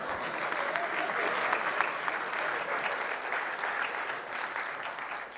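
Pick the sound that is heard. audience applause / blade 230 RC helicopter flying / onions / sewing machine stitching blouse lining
audience applause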